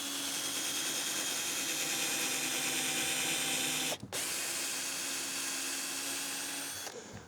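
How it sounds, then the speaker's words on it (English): A power drill whirs steadily as it bores holes through wooden boards while a barn owl box is built, with a sustained near motor whine that stops briefly midway and then resumes. "I just need to go and just drill a couple of holes through it"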